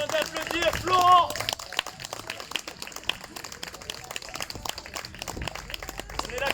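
Spectators applaud a circus performer at a P'art 2 rien show, a fairly close, continuous round of clapping with a faint voice near the beginning and crowd noise underneath.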